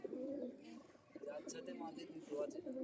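Pigeons at a loft coo softly in repeated low, rolling calls, faint and continuous, with a person talking over them at times.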